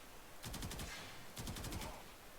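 Automatic gunfire from the video game Warframe comes in two rapid bursts of about six shots each. The bursts are loud and evenly spaced, with no talking.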